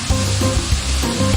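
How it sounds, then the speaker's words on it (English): Indonesian spice base paste sautéing over medium-low heat in a pan, a loud continuous sizzle with rhythmic stirring pulses, close up. "if we saute the base paste of Indonesian cuisines, use medium-low heat"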